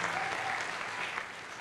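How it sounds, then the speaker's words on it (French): A studio audience at a midday TV show claps in an even wash of applause, soft and somewhat distant, with no speech over it. "on va le raccompagner avec les applaudissements"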